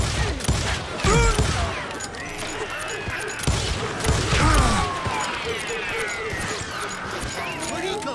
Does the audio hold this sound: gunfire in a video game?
yes